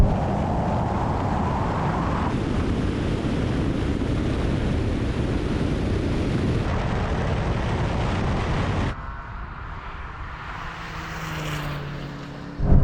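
Porsche Taycan, Cayenne and 911 cars accelerate hard in a drag race, a loud continuous roar of engine and wind that drops abruptly in level partway through, then carries on quieter with no talking.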